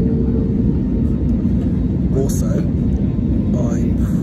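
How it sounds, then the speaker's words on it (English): Aircraft jet engines give a steady, loud, low rumble that fills the whole stretch, with a voice speaking briefly over it. "Jet engines."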